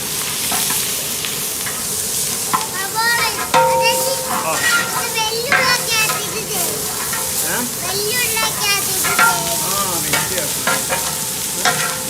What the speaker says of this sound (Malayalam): ഇനി ആ അതെ സവോള ഇടുന്നു കരിയാപ്പന ഇടുന്നു